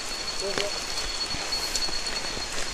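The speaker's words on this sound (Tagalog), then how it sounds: "lalo na kapag ganito na umuulan" Rain falls steadily throughout as an even hiss of drops, with a few brief clicks and faint rustles mixed in, fairly close and fairly loud.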